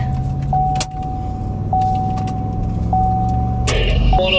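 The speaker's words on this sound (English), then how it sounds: "Just hopping back in the car here." A storm chaser gets back into a car during a Kansas tornado chase: a loud steady interior rumble, a few clicks and thuds of the door and seat, and a continuous thin electronic tone beeping at intervals, with no talking.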